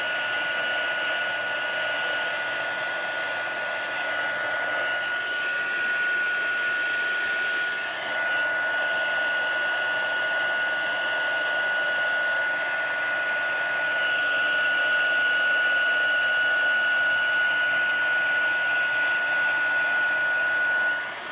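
A heat gun melting embossing powder blows continuously with a steady whirring hiss and a thin high whine, loud and close, with no voices.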